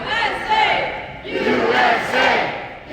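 A crowd at a Winter Olympics opening party chants USA in loud rhythmic unison, several rising and falling repetitions filling the room.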